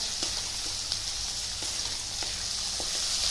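Dal and onion sauté in a pan of hot oil, giving a dense, even sizzle that holds loudly throughout with faint scattered ticks from stirring and no voices.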